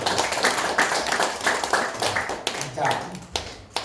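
An audience at an agricultural lecture claps, steady, moderately loud applause with sharp individual claps, while a voice speaks over it.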